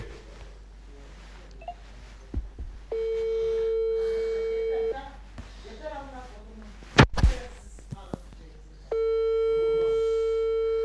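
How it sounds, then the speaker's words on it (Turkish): A telephone busy signal after a call is cut off sounds as a steady electronic tone running for about two seconds, then returning later, with someone speaking and some clatter in between. "Arkadaşlar Kayra telefonu kapattı."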